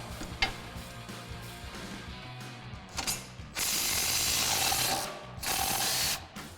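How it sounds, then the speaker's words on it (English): A ratchet on an 18mm socket loosens the strut mount bolts on a 2005-2010 Mustang, clicking in quick close strokes and then whirring in two sustained spins. "we need to take the two main strut mount bolts out of the bottom. They are an 18mm socket"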